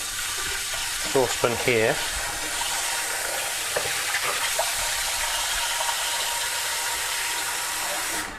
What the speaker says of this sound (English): should we put it in a bowl of cold water to help that along?